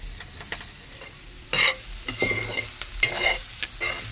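Curry leaves crackle and sizzle in hot oil, with bursts of spitting and stirring scrapes close by, the sputtering growing livelier after the leaves drop in.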